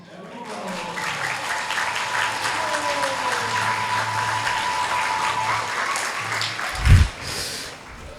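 Devotees clapping along during a Hindi kirtan, a continuous wash of hands with a sustained drone tone beneath and a brief loud thump near the end.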